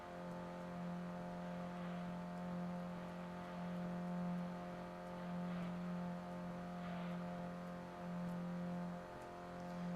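A car engine in the Gran Turismo 2 racing game holds a steady high drone with a whirring, vacuum-cleaner quality, gently swelling and easing in level with no speech.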